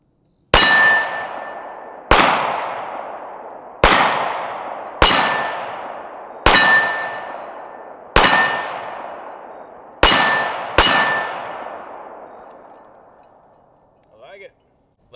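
Shots from a SIG P226 pistol at an outdoor range, fired in double and single action: eight loud, sharp reports at uneven intervals of one to two seconds, each leaving a long ringing decay, with steel targets clanging.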